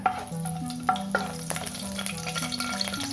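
Whole spices — two cloves, one cardamom pod, a small piece of cinnamon and some fennel seeds — sizzle and crackle in hot oil, a steady close frying hiss with a few sharp pops and a faint tonal hum underneath.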